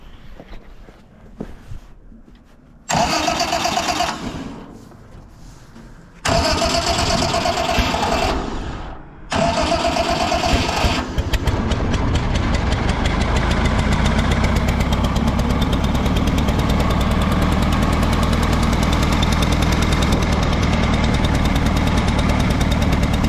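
An Allis Chalmers G tractor starts outdoors in cold, snowy weather: two loud cranking bursts with pauses, then the engine catches and runs on with a steady, close, chugging idle.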